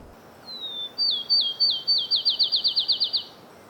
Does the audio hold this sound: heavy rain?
no